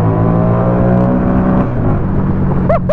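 Buell XB9S motorcycle with a Harley V-twin engine idling and running close by, a loud, steady, throbbing low rumble throughout, with a brief voice-like sound at the very end.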